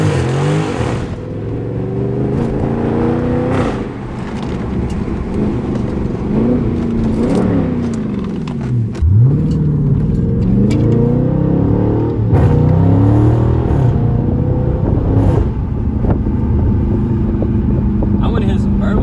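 Chrysler 300 SRT engine revving repeatedly, rising and falling pitch with exhaust burbles and crackles between pulls, loud and close, with voices briefly underneath.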